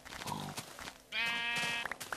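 Sheep bleat in Minecraft, a short bleat followed by a longer, louder wavering bleat, close and clear over faint background game sounds.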